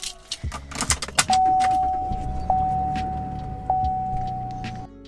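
Keys jangle, then a 2020 Chevy Colorado ZR2 pickup truck engine cranks and catches, settling into a steady idle with a thin whine running over it.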